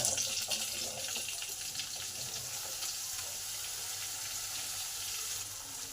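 Potato pieces hit hot oil with garlic already browned in the pan, setting off a loud, hissing sizzle that starts strongest and settles into a steady, watery crackle.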